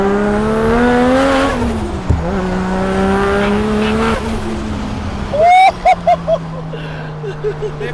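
A straight-piped big-turbo Toyota Supra MK4 engine revs loudly up and down in sweeping pulls, then blips in short sharp bursts, heard close from inside the car.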